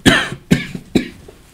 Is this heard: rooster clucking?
no